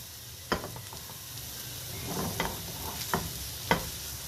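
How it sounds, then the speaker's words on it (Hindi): Flour and butter fry in a pan over raised heat for a chicken kachori filling, giving a steady soft sizzle broken by a few sharp scrapes and taps of a spoon stirring, close and fairly quiet. "इन सबको थोड़ी सी आंच तेज़ करके पका रही हूँ, बस हल्का सा इसको पकाना है"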